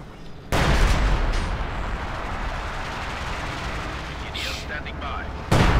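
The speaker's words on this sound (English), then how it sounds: "Barrage unleashed." A sustained artillery barrage in the strategy game Company of Heroes 2, a dense, continuous rumble of heavy fire that starts abruptly and rolls on steadily, with a fresh loud burst near the end.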